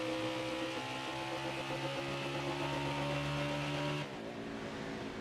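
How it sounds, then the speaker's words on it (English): Race car engines from a NASCAR Heat 5 race at Iowa, with Hamlin's car among the AI field, drone as a steady, sustained roar with harmonic whine that drops in pitch and level near the end, no talk. "that's Hamlin's engine."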